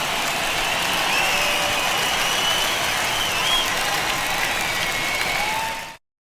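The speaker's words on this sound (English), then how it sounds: "the home crowd seems a little restless" Crowd noise in the MLB The Show baseball video game during a Cardinals at Dodgers playoff game: a broad, steady roar of applause and cheering that ends abruptly.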